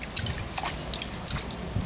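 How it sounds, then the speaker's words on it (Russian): Water is poured in a few short splashing bursts, with drips and trickles between them, close by and fairly quiet, kept shallow for a small child outdoors in a village setting. "Много не наливаем воды"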